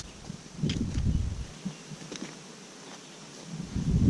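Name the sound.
honeybees at hive being smoked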